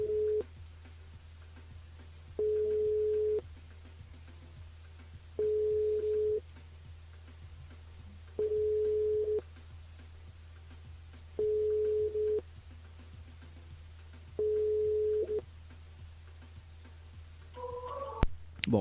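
A telephone busy tone on an unanswered call repeats as six evenly spaced beeps about three seconds apart over a low steady hum, followed by a brief burst of other tones at the end.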